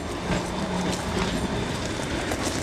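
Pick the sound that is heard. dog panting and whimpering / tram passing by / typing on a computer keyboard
tram passing by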